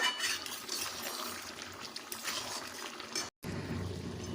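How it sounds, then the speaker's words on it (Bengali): Mutton pieces being sautéed in a pan for a Bengali mutton kosha, a steady close hiss and bubbling with occasional clinks, briefly cut off near the end before resuming. "মাংসগুলোকে ভালোভাবে এবার কষবো"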